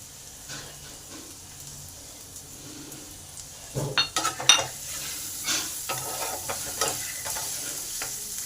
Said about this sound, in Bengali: পেঁয়াজটাকে হাফ ভেজে নেব